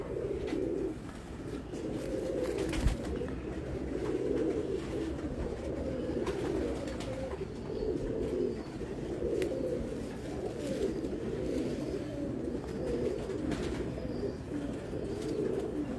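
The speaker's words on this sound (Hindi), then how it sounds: "प्योर फैसलाबादी जौंसरा कबूतर है जी" Faisalabadi pigeons coo in low, repeated throaty rolls, one after another throughout, close by and fairly loud over a faint background hum.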